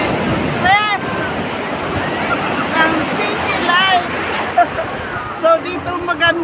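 Sea waves wash onto the shore at sunset, a steady rushing surf mixed with wind buffeting the microphone, while people talk and exclaim excitedly over it.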